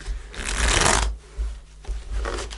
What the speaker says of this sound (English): Let's just shuffle the cards a little bit.